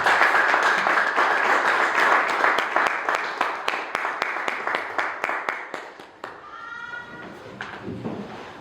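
Church congregation at a Pentecostal night service applauding together in a sustained burst of clapping that fades out after about six seconds, leaving faint scattered taps.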